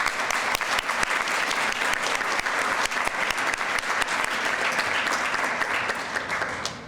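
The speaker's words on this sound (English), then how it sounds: "I want us to go ahead and give a special round of applause to those faculty volunteers" A roomful of guests at a 2022 graduate student awards banquet claps for the faculty volunteers, producing loud, continuous applause with crisp individual claps standing out, tapering slightly at the close.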